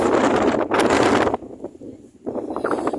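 Strong winter wind gusts buffet the microphone on Tseung Kwan O Bridge in loud, roaring bursts that drop briefly and then surge again.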